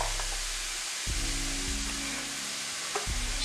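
Red onions hit a pan of frying ground turkey with a steady loud sizzle, broken by a few scraping stirs of the utensil against the pan.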